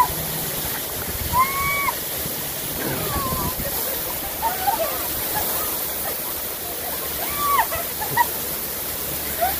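Bridal Veil Falls pours in a steady, loud broadband roar up close, with water splashing and sloshing throughout and brief voices and whistle-like calls rising over it.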